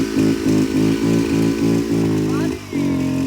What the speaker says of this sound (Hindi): इसके भी गाइस अपनी बाइक हो चुकी है स्टार्ट